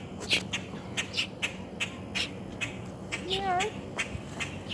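An adult crow near a young bird gives a few harsh cawing calls among sharp, repeated squawks at close range, with a brief spoken word from a person.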